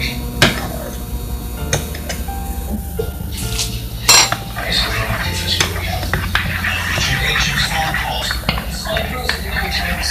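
Slime being mixed with shampoo, salt and shaving cream in a bowl, with continuous squishing and clinking utensil scrapes while a person talks over it.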